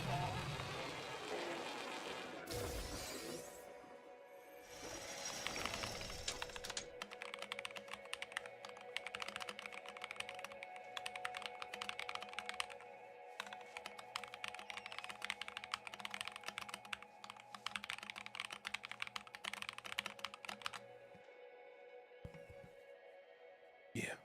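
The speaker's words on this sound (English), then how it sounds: "how's the keyboard sound?" Rapid typing on an Alienware computer keyboard, crisp clicky keystrokes tapping in quick irregular bursts at close range, with a steady low hum underneath and a brief voice near the start.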